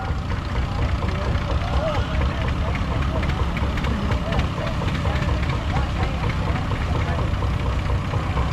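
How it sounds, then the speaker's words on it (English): An antique Haas Model D tractor engine chugs steadily with a rough, knocking rhythm at a threshing show parade, loud and close, running without pause the whole time while a voice talks over it. "This is a Haas Model D, owned and operated by Ed Cook"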